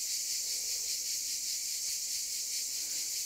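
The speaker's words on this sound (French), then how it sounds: "Voilà, il y a des abeilles." Honey bees buzzing steadily around an opened beehive frame, a dense continuous hum heard close and alone, with no speech.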